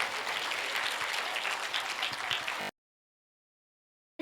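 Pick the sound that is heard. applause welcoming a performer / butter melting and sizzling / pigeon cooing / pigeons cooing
applause welcoming a performer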